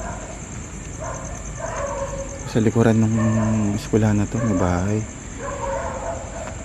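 A dog barks from a house beside an abandoned college school at night, a short run of loud, close harmonic barks in the middle, with someone talking quietly before and after and a steady high insect whine throughout.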